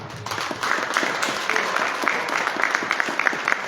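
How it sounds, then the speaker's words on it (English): Audience at an MLK celebration evening event applauding steadily, a dense wash of many hands clapping at moderate loudness with a brief faint voice near the start. "give yourself a round of applause for being here tonight"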